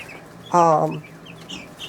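Chickens, ISA and Cornish Cross meat birds, give one loud, close cluck-squawk lasting about half a second, followed by quieter background clucks and faint chirps.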